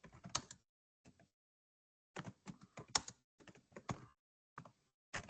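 Typing on a computer keyboard, quiet close bursts of clicking keystrokes separated by short pauses, with no talking.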